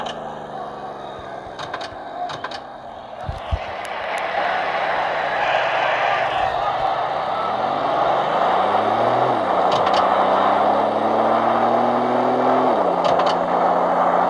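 A 1996 Toyota Tacoma's 4.0L V6 engine runs close by, rumbling steadily and rising in pitch as it picks up, with a few clicks and knocks early on.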